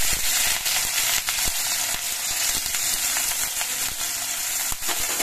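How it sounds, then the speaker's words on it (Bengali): Small mourola fish heads fry in hot mustard oil with a continuous, close sizzle, dotted with sharp crackles and pops throughout. "সর্ষের তেলটা গরম হয়ে যাওয়ার পর এবার এই মাছের মাথাগুলো আমি দিয়ে দিচ্ছি।"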